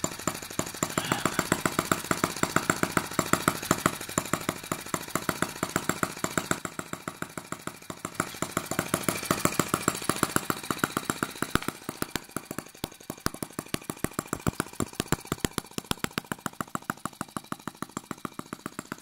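A Microcosm T1/T26 Chinese model gas tractor's small engine runs steadily nearby, a fast rhythmic popping putter that speeds up and slows slightly over its length, with mechanical rattle.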